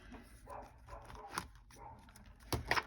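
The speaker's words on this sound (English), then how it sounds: "Duncan is out there barking" A dog named Duncan barks outdoors, sending several short, faint yaps in irregular bursts with a louder cluster near the end, heard from a distance in a quiet room.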